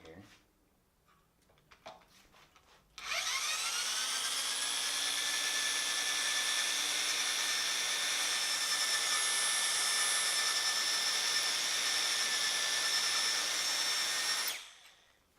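A power drill bores out a stuck bolt in a motorcycle fork in a garage, spinning up after a few soft clicks and holding a loud, steady whine for about eleven seconds before stopping.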